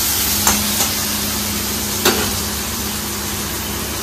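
Garlic and onion fry in hot oil with a steady, broad sizzle, broken by a few light clinks of stirring.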